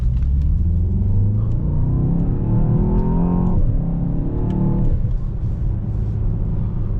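A Mercedes S63 AMG E-Performance with an 802 HP V8 hybrid engine fires up and revs, a loud, close, continuous rumble that climbs and falls with the throttle, heard without talk.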